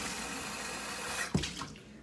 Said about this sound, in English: and then you just want to rinse out the inside.